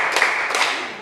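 A class of students clapping in unison during a clap-along game in a classroom: two sharp group claps about a beat apart, close and moderately loud.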